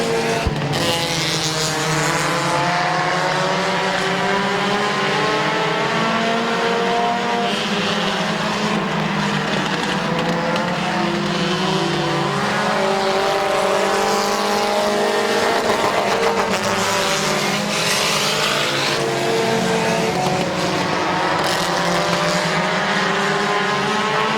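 Race cars lap Midvale Speedway, a continuous loud roar of several engines with rising and falling pitch as they pass and rev, steady throughout with no voice on top.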